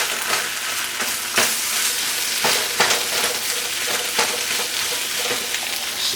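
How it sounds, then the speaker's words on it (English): Vegan patties sizzle steadily in a frying pan while a spatula chops through them, sharp scraping strikes landing at irregular intervals over the continuous hiss of frying, close and fairly loud. "Chop them up."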